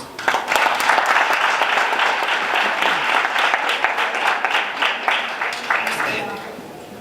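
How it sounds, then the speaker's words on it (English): A conference audience at a youth gathering in a Durban hotel claps to welcome a speaker, a fairly loud, dense round of applause that rises quickly, holds steady, and tapers off near the end. "Ladies and gentlemen, let's give him a round of applause."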